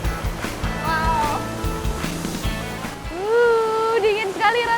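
Water rushes at Ilantat waterfall in a steady, close wash of noise, while people talk over it.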